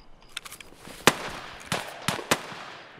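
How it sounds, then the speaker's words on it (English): Gunfire in the video game Escape From Tarkov: several sharp, distant shots crack out irregularly over about three seconds, with no one talking. "Why is there a billion gunshots going off still?"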